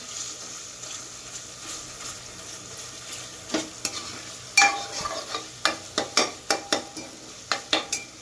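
Tomatoes and onions sautéing in a pan, a soft low sizzle that gives way to a run of sharp, rhythmic clinks and scrapes of a spoon against the pan, no voices.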